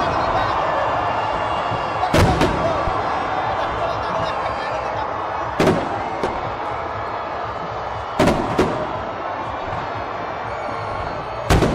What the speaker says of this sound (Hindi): मीनार पाकिस्तान में आतिशबाजी का सिलसिला जारी है।